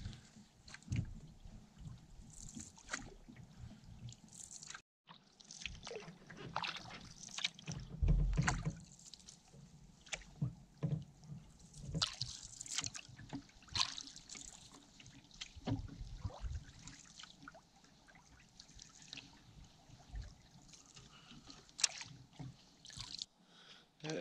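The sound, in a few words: boat moving on misty water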